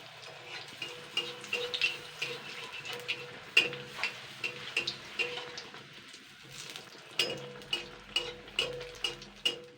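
Battered wood apple (kodbel) chops frying in hot oil give off soft bubbling with frequent small ticking pops at a steady, fairly quiet level, with no talking.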